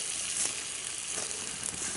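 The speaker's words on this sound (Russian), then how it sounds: "И сарделечки еще там шкварчат вкусные." Sausages sizzling over a campfire, grilled alongside shashlik in a cold winter forest by a river, giving a steady close crackling hiss with small spits and pops throughout.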